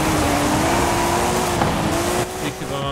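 A race car engine screams at full throttle in a racing game, a steady high-pitched drone holding through the clip before a brief gear change, with faint talk underneath.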